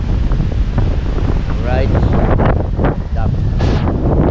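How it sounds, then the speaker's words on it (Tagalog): Strong wind roars steadily and loudly against the microphone during a rainy spell, with a person speaking briefly in Tagalog beneath the buffeting. "Malakas talaga ng hangin."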